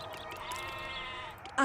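Sheep bleating in the video game Poseidon: Master of Atlantis, one wavering bleat heard clearly above game background sound and ending with a sudden louder sound.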